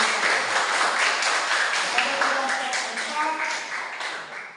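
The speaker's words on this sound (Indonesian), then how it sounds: "Oke, tepuk tangan dulu sebelumnya." A classroom of students claps together in a steady, dense wash of applause that fades slightly toward the end, with voices mixed in underneath.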